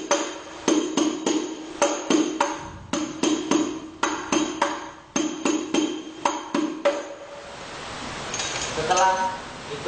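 A hadroh frame drum plays the penikah rhythm in crisp, close strikes grouped in repeating bursts, then gives way to softer, noisier sound at the end.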